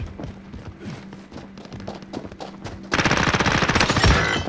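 Sustained 9mm automatic gunfire in the video game Warzone, a loud dense burst of rapid shots filling the last second and a half, preceded by quieter scattered in-game sounds.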